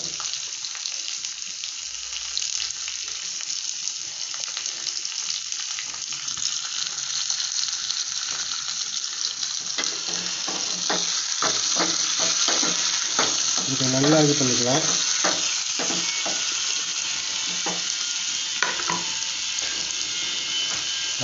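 Oil sizzles steadily as onions fry for sambar with ridge gourd, with scraping and clicking stirring sounds. A voice talks briefly over the cooking.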